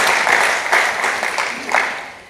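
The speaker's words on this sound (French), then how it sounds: "On peut l'applaudir bien fort." An audience at an evening prize draw for a football tournament applauds, a short dense burst of clapping that holds steady and then starts to fade.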